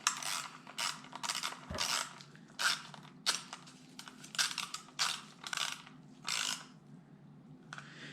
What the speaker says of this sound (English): then bring it down the rest of the way with the ratchet